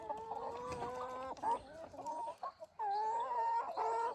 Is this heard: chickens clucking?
yes